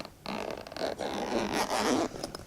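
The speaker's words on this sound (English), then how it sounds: "The zippers, this is the thing with me." A zipper on a Pilotfly camera bag is pulled in a few close, rasping strokes, with short pauses between the runs.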